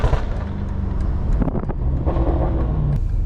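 A BMW F90 M5 Competition engine heard from inside the car while downshifting through paddle shifters: a steady low drone with a short rev blip partway through, over wind noise.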